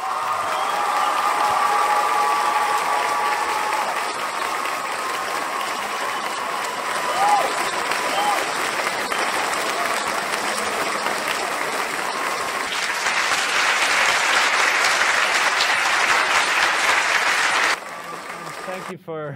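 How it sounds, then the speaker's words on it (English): A lecture audience gives a long standing round of applause for a speaker, with dense, steady clapping from a large crowd that runs unbroken for nearly twenty seconds before dropping off abruptly. "an Earthkeeper standing round of applause for the amazing Graham Hancock"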